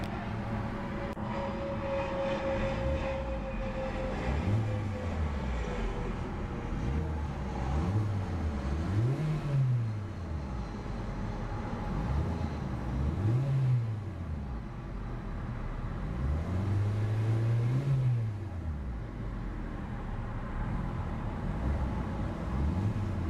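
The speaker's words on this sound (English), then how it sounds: "A very beautiful and quite peppy exhaust note from that little four-cylinder power plant." The 1.6-liter four-cylinder engine of a 2014 Hyundai Accent SE revs repeatedly, its pitch climbing and falling in several blips, with a steady rumble from the exhaust.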